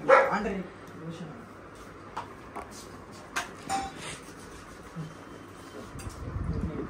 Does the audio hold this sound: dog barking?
yes